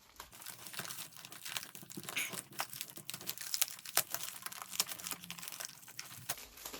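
Packaging of a Pokemon box being opened and cut, close crinkling and crackling of plastic and cardboard with sharp snips and tearing in an uneven run, no talk.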